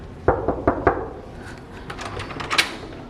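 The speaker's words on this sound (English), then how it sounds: "I'm supposed to be outside, and I'm supposed to knock, and you're supposed to open." Several sharp knocks land on a door in a quick group of four, followed by softer scattered taps and a thump, close by with no talking.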